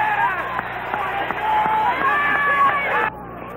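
A 1984 college football stadium crowd of about 76,000 at Oklahoma State versus Nebraska makes a steady, loud roar and babble, with scattered shouts, before cutting down sharply near the end.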